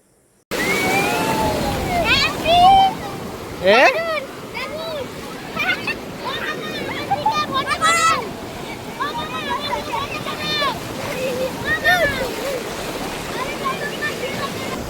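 Sea waves at Digha beach wash and slosh close by in a steady surge, while people splash and shout in the water and several voices talk over the surf.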